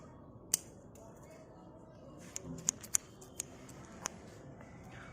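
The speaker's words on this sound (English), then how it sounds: "You have to cut those spent flowers so that the new branches will grow" Garden scissors snip spent flowers off a rose plant in a series of sharp, close clicks, one early and a quick cluster later, over a faint background hiss.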